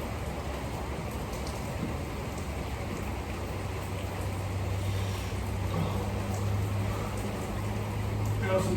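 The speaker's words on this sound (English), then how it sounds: "Oh, and then the rain comes right back." Steady rain falls on a garage roof during a home weight-lifting session, a dense continuous patter with a low hum underneath, constant and fairly loud throughout.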